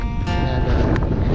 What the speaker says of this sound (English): it is a brisk, windy morning